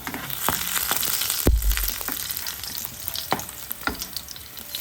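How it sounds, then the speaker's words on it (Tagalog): A small amount of garlic sautés in cooking oil in a pan, sizzling close and steady, with scattered stirring scrapes and one heavier knock. "Maglagay tayo ng mantika. So, magsaute tayo ng konting garlic."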